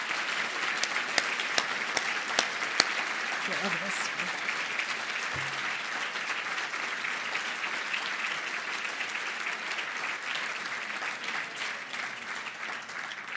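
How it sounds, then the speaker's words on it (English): A crowd applauds continuously, a dense, even wash of clapping that goes on and on; a voice briefly calls out partway through. "Please join us in a rousing round of applause"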